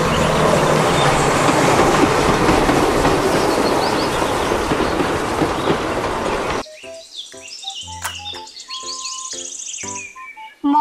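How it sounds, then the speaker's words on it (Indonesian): A Thomas toy train runs with a steady rattling clatter and whirring motor, then switches to a chirpy electronic jingle with beeps and tones. "kereta Thomas."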